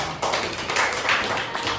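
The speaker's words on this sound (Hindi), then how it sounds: "रूबा के लिए सब तालियां हो।" Children in a classroom clap for a girl, a brief burst of close, quick hand claps that starts abruptly and keeps up steadily to the end.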